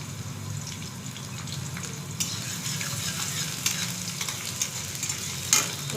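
Onions frying in hot oil in a pan for homemade cabbage gobi, a steady close sizzle throughout with occasional light clinks and stirring scrapes, no voices.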